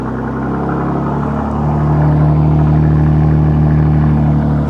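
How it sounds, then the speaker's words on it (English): A BMW M3 with an HKS exhaust idles nearby with a deep, throaty exhaust rumble that swells a little louder partway through, steady and without talking. "That's the HKS exhaust on the M3."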